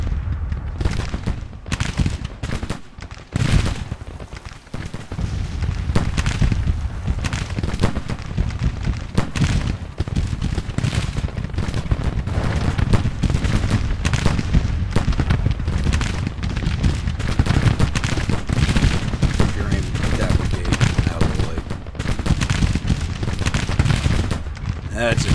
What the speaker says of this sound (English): Start shooting that cavalry.